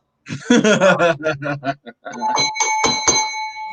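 Bell chimes ring out as a studio sound effect on a live sports podcast, several bright sustained dings following a burst of chuckling voices.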